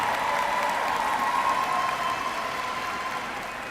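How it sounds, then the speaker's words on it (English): A graduation ceremony crowd applauds the class of 2025, a dense, steady wash of clapping from many hands that fills the hall and fades slightly toward the end. "Let's give a round of applause to the class of 2025."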